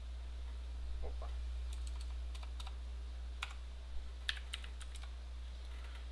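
Light, sparse keystrokes on a computer keyboard while entering values into a calculator program, a few scattered clicks over a low steady hum in a quiet room.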